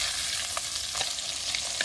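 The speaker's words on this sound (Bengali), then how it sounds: "মাছটা এক পাশ ভাজা হয়ে গেছে, তো আমি এখন উল্টে দিচ্ছি" Fish frying in oil in a pan while being turned over, with a dense, loud, steady sizzle and a few soft scraping taps from the spatula, close up and with no speech.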